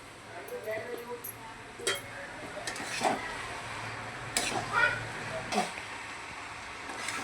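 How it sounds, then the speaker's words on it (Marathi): A spatula stirs potato bhaji with turmeric and asafoetida in a pan, producing intermittent scraping and clinking strokes over a soft background sizzle, close by. "ही असा भाजी हलवून घ्यायची"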